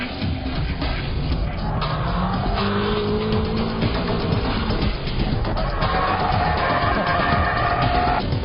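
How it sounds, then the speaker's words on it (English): A car drifting through various drift techniques, its engine revving hard and continuously with tires squealing and skidding across the pavement, loud and close throughout. "Keiichi Tsuchiya drifts using 6 different drift techniques"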